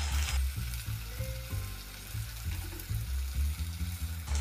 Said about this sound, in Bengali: এই তেলের মধ্যে দিয়ে দেবো এই দেখো আদা, রসুন আর লঙ্কার পেস্টটা